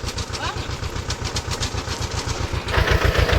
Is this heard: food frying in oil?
no